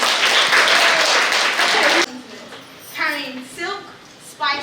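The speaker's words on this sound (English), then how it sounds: "I'd just like you to give them a big round of applause before they've even started" Audience applause for children's drama performers on an outdoor East India Company history walk: loud, dense clapping for about two seconds that then stops abruptly, followed by scattered speaking voices.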